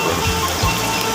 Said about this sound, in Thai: ฝนตกครับฝนตกบรรยากาศมันนี่ฝนตก